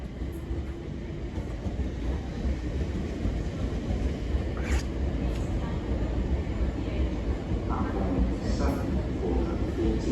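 A Class 376 electric train passes near London Bridge, a steady rumbling roll that holds for the whole stretch with faint squeals and clicks, while a voice talks over it.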